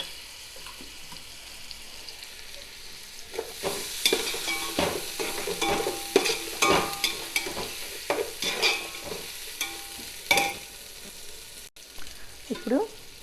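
Ghee-fried masala for coconut pulao sizzles steadily in a pan while a spoon scrapes and stirs in quick irregular strokes, the clatter growing busier partway through and then easing, close by with no voices.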